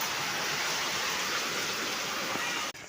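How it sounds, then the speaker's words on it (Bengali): Heavy monsoon rain pours steadily in a loud, continuous wash of noise that stops abruptly at the very end. "বৃষ্টিটা আরও জোরে এলো"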